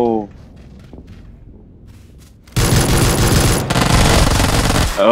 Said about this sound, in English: He's shooting me now.